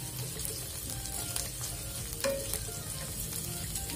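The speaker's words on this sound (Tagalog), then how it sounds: "Ayan, nagbabrown na ang ating onion." Onion browning in a frying pan while pork and broccoli are cooked, with a steady moderate sizzle and a few faint stirring scrapes, close by and without talk.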